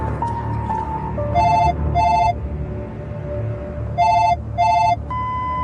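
An office desk telephone rings in repeated double bursts of an electronic trill, two pairs spaced apart, loud and close above a low room hum with faint tones between rings.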